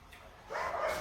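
A single short dog bark, fairly faint, rising out of quiet background noise.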